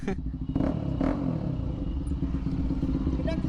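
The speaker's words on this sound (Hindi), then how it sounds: "अभी चेक करेंगे ये बाइक को कैसी साउंड सुनाएगी। मतलब कि इसका साउंड कैसा आएगा आपको सुनाता हूँ" A Bajaj Pulsar NS 200 motorcycle fitted with an SC Project exhaust idles close by with a deep, steady rumble and a couple of quick throttle blips near the start.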